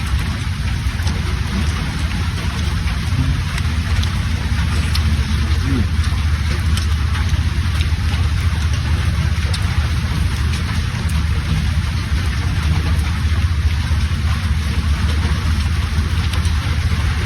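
Steady, dense storm rain hisses without pause, a continuous loud downpour with a low rumbling undertone.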